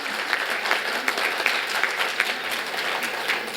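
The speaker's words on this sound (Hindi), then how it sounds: "जोरदार ताली हो जाए उनके नाम में।" Sustained applause from an audience at an award ceremony honouring Atal Bihari Vajpayee, steady dense clapping with a few sharper individual claps standing out, fairly close and filling the whole stretch without talk.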